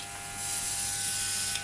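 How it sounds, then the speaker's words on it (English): A cheap airbrush compressor for model making starts up and runs with a steady, close electric buzz and hum that holds for the whole moment. "when you press that, you can hear it starts up. That's the actual compressor"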